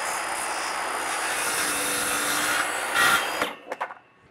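A power saw cuts a length of dimension lumber held in a cutoff jig, a loud steady whine running for about three seconds before spinning down and stopping, followed by a few short knocks.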